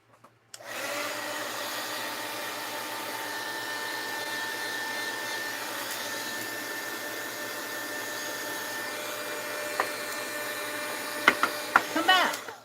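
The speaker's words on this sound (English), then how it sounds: "Ouch, this heat gun's hot." A hot heat gun blows steadily during a mixed-media crafting session, a continuous close airy roar with motor hum that runs almost the whole time, ending with a few sharp clicks and knocks.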